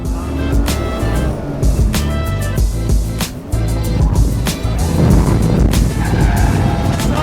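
A drift car on long-stroke Feal Pro coilovers slides through a turn, its engine revving hard with tires squealing and skidding across the whole stretch, loud and close, with no talking.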